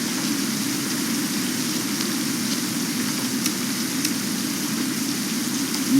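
Steady rain falling, a continuous patter with a low rumble beneath and a couple of sharper drips standing out, no talk heard.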